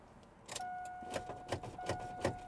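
An old, inexpensive pickup truck is started after sitting parked: a sharp burst, then a steady tone with rhythmic pulsing as the engine turns over and catches, moderately close and without talk.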